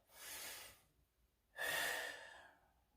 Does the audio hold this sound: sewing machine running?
no